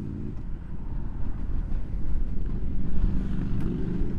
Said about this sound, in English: it's a lovely little sound to run in. Little grumble rumble.